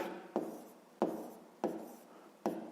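Pen or pencil strokes on paper while a fifth-grade maths division problem is written out, four distinct scratchy strokes at a steady rhythm, each with a sharp onset and fading tail, close and fairly quiet, with no talk.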